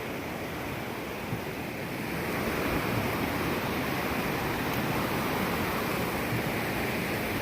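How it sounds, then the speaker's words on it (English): A raging river rushes beneath a hiking bridge on the Pacific Crest Trail, a steady, dense, loud roar of water that swells slightly partway through, with no voices. "This river is like really raging."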